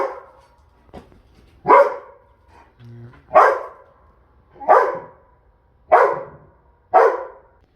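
A dog near the mic barks at wild birds that have flown into a patio beside a flock of young chicks, giving six loud, evenly spaced barks after a couple of soft yips, with no talk.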